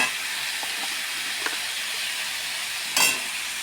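Nigella seeds fry in a pan with a steady, even hiss of hot oil, marked by a few soft stirring taps and one brief louder burst of sizzle near the end.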